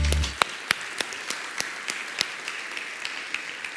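A church congregation at a Portuguese-language service offers thin, scattered applause: sparse, separate claps at an irregular pace, fairly quiet and spread across the room.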